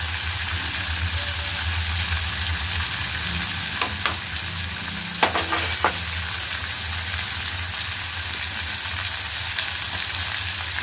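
Flat broad beans and chickpeas fry in a pan with an even, continuous sizzle. A few brief scrapes and clinks from a stirring spoon stand out now and then.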